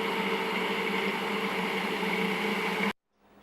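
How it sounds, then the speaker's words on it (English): Blender running while blending pesto as olive oil streams in: a steady, loud whirring motor drone that cuts off abruptly near the end, followed by quiet room noise. "Then turn on your blender and stream in some olive oil."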